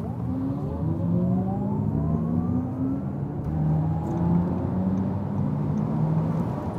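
Audi e-tron GT electric supercar accelerating hard under launch control, its motors giving a rising, siren-like whine that climbs in pitch in repeated sweeps over steady road rumble, heard from inside the car with no talking.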